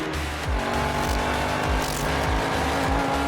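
High-performance race cars including a Corvette ZR1 and a Mustang GTD lapping Sonoma Raceway, engines roaring loudly and continuously with repeated sharp rev drops on upshifts and some tire squeal, close and dominant throughout.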